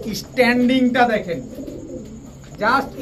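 Golden teddy pigeons coo in low, throaty bursts close by, a few rounds over a few seconds, with a voice talking over them.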